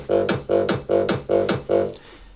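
A reversed bassline in an electronic dance track, fully filtered with EQ, plays as five evenly spaced swelling bass pulses, each rising and then cutting off abruptly, before a brief fade.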